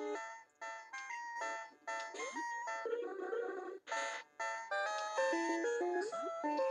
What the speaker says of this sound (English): these Persian statues are alarms